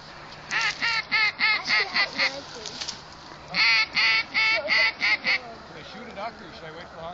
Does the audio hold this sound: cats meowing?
no